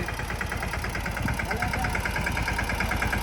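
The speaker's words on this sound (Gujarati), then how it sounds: "ટ્રેક્ટર આવે છે, જોઈએ ક્યાં વળે" Tractor engine chugging steadily at close range on a riverbed crossing, a rough mid-pitched idle-like throb that stays loud throughout, with some faint voices mixed in.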